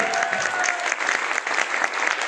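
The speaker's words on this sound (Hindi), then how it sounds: "ताली ज्यादा एक बार से कर रहा हूं मैं, एक बार जोर से चौधरी साहब के लिए" Audience applause at a Safe Shop leadership event in Chandigarh, steady dense clapping throughout, fairly loud and close with no talk over it.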